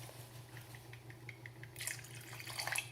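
A starch, malonic acid and manganese sulfate solution poured in for a complex chemical reaction: quiet background, then a faint trickling pour that starts partway through and continues.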